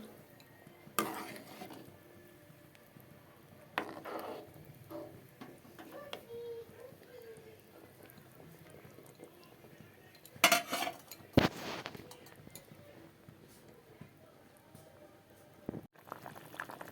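Katla fish cooking in a curry gravy on the stove: soft bubbling and simmering under quiet background, with scattered clinks of utensils against the pot and a few louder metallic knocks.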